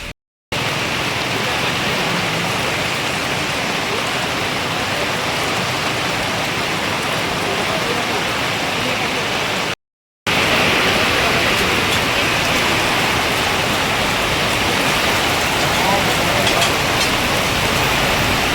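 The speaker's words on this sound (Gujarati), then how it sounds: "વરસાદ પણ એકદમ જબરજસ્ત." Heavy rain pours steadily in a dense, even hiss that stays loud and close throughout, broken only by two brief dropouts to silence, with traffic nearby on a road during a downpour.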